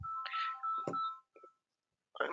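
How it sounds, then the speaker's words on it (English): A mobile phone rings nearby in short melodic bursts, stopping for about a second before the ringtone starts again, with no talking over it. "Sorry, my phone's ringing."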